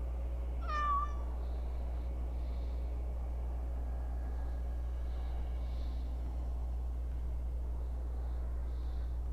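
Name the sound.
cat Sir Pouncelot meowing in video game Dragon Age Origins Awakening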